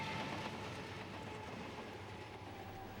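A coal train rolls along a railroad line from Wyoming toward Central Texas, a steady rumbling wash of rail noise with faint clatter, fairly distant and continuous throughout, with no voices.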